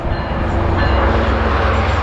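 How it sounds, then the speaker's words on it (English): A train rolls past beside a newly seeded lawn area, a steady loud low rumble with rattling wheel noise filling the whole moment, with no talking. "Train!"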